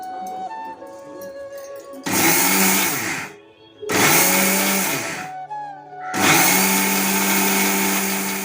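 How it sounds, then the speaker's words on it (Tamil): A mixer grinder grinding roasted sesame seeds whirs loudly in three bursts separated by short pauses, each run revving up with a rising, harsh grinding whine. "அதில் போட்டு நம்ம இப்போது அரைச்சி எடுத்துக்கலாம்."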